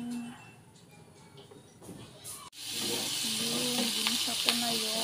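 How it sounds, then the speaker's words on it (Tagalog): Tomatoes, garlic and onion sizzle as they sauté in a pan for a shrimp dish, the frying hiss rising loud and steady after a quiet start and a brief thump. "Ginisa ko na yung kamatis, bawang, sibuyas at saka kamatis hanggang sa luto."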